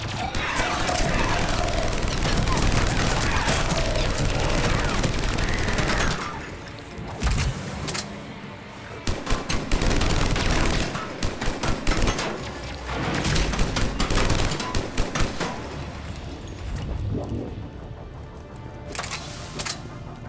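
Rapid gunfire crackles through a firefight in a secret Cerberus lab in Mass Effect 3, dense sustained bursts at first, then choppier volleys and single shots with brief gaps, loud and close throughout.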